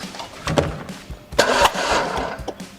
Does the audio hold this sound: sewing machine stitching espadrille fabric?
no